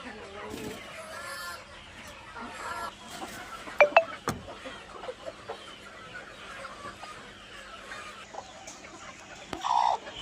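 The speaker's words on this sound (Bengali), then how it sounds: "মুরগি আমরা দেওয়া শুরু করলাম। এখন একের পর এক" Native desi chickens on a poultry farm cluck and call intermittently as they are carried in, with a few sharper squawks among soft background farm noise.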